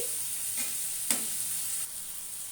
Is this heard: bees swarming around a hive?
no